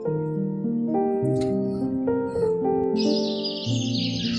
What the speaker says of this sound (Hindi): चिड़िया और कबूतर खाना लेने जाते हैं।